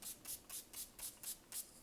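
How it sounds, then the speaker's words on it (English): A spray bottle mists water onto watercolor paper in about seven quick, evenly spaced spritzes, each a short airy hiss, faint and close with no other sound. "So spray a little water on the paper."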